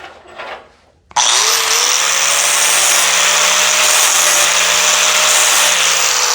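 A flap disc on a power tool grinding while crafting a Corvair valve cover, starting abruptly after a short quiet moment, then running loud and steady with a constant high whine.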